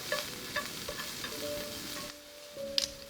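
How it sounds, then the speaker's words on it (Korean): Carrots stir-fried in an oiled pan give a steady close sizzle with light scraping strokes of a utensil throughout, quieting briefly near the end before one sharp clink. "팬에 기름을 두르고 당근부터 볶아줍니다."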